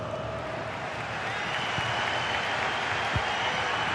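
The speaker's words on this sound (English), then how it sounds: "Well, just listen to this crowd." A large stadium crowd roars and applauds steadily throughout a football match in EA Sports FC 26, with Ceuta FC against New England, as a dense wash of cheering noise with a few sharper claps.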